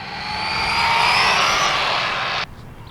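Arrma Infraction RC road car on a top-speed run, its electric motor rising into a loud, high whine as it races closer, then cutting off abruptly and leaving quiet background.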